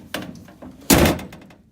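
The door of a 1965 Triumph Spitfire, with some weather stripping missing, shuts with one loud close thunk after a lighter knock, close by and alone.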